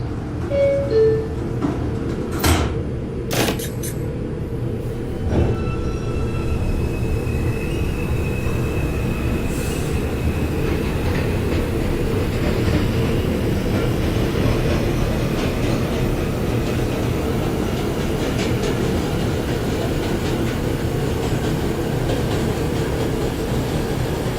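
A New York City Subway R142 train on the 5 local in the OpenBVE simulator runs along the track with a steady, loud rumble, squealing wheels and brief high chimes early on, continuous throughout.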